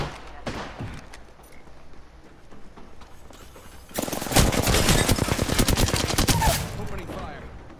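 Rapid automatic gunfire from the Apex Legends battle royale game, starting with sparse shots and then erupting into a dense, loud stream of bursts in the second half, with faint game sounds beneath.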